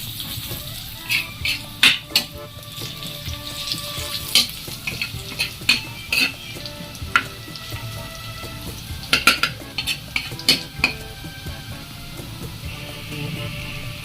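Garlic frying golden brown in a pan, stirred as it cooks: a steady sizzle with repeated sharp scrapes and clinks of a utensil against the pan, close and fairly loud, with no talking.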